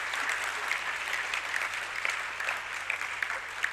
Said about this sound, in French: sous vos applaudissements, recevra sa distinction